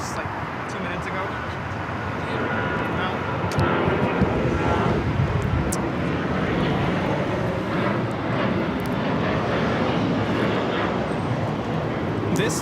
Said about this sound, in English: This is Alaska Airlines 1192 taking off to Portland on the 737-800